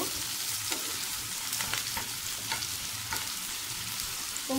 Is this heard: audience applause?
no